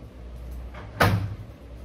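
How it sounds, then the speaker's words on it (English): A door is smacked shut indoors with a single sharp, close thud and brief rattle that decays within about half a second, preceded by a faint softer bump. "Enough door smacking."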